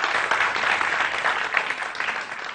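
Studio audience applause on a Pakistani morning talk show, a steady dense wash of clapping held at even loudness throughout, with no talk over it.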